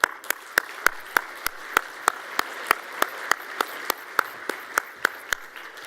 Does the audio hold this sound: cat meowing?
no